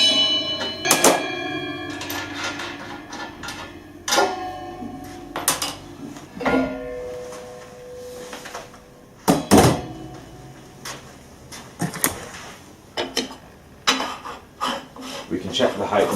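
Metallic clinks and scrapes of a 19mm spanner unwinding the carousel nut on a Promatic machine, a scattered series of sharp taps and rattles with short pauses between them.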